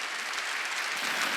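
A church congregation claps together during a Wednesday worship service, a dense, steady burst of applause that stays full and even for its whole short length.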